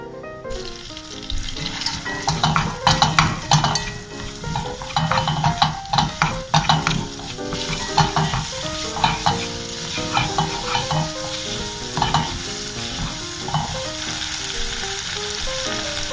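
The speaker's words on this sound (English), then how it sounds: "I am actually gonna saute the onions" Diced onion sautés in a pot while a utensil stirs and scrapes, producing a close, busy sizzle broken by repeated clatters and clinks of spoon against metal; no talking.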